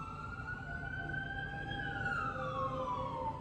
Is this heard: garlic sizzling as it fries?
no